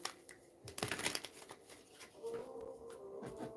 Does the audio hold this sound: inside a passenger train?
no